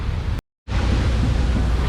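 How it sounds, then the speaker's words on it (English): Heavy surf pounding the shore at El Nido, a loud, continuous broadband roar with a brief full dropout near the start, then steady crashing wash and wind buffeting the microphone. "As the waves pound in, this is the biggest surf I've seen here."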